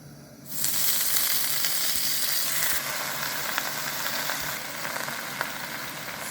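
Spinach lands in a pan of olive oil and erupts into a loud, dense sizzle that holds steady and close for several seconds, with no one speaking.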